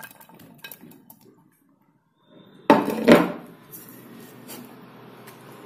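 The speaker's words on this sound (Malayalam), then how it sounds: "ഇതെല്ലാ ഇൻഗ്രീഡിയൻറ്റും ഒരു പാനിലേക്ക് ഇട്ട് കൊടുക്കുകയാണ്" Potato, onion, green chilli, ginger and tomato tipped into a pan, a sudden clattering thud and scrape after a quiet pause, followed by light rustling and small knocks.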